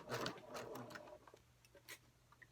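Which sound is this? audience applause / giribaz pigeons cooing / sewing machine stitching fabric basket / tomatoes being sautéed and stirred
sewing machine stitching fabric basket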